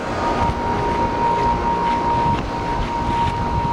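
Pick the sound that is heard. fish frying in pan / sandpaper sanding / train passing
train passing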